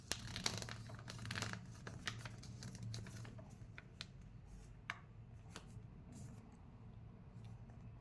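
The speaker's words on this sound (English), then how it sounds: "Now you fold this on top of the line you just made with your pencil." Paper being folded and creased for a finger puppet bird, with close, faint crinkles, rustles and small sharp taps scattered over a low background hum, no talk.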